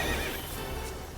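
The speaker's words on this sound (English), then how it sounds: "Hey, it's a horsey." A horse whinnies in Final Fantasy XIV: Heavensward, a shrill neigh rising over steady background music and ambient sound.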